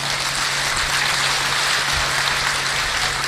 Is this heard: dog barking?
no